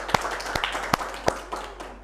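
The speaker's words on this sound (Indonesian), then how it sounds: "Tepuk tangan untuk kalian semua ya." Five or six sharp separate hand claps in a classroom, close and distinct, spaced a little unevenly over two seconds, as a class briefly applauds students' results.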